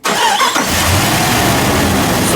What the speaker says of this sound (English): So can you go ahead and start the engine?